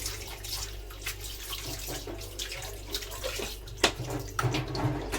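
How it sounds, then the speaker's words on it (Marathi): Tap water runs steadily with splashing and sloshing as meat and trotters are rinsed under it, close by and fairly quiet. "असं घाण पाणी निघून जाईपर्यंत स्वच्छ धुवून घ्यायची."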